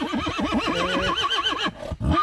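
A mare whinnies loudly and close, a long wavering neigh that trails off, followed by a snort.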